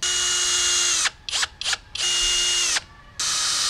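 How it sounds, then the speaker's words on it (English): Power drill driving screws through a hinge into a wooden riser of a circular saw crosscut jig, with steady high whines broken by short bursts and pauses, close and loud. "the next thing is going to be screwing the hinge into the main riser."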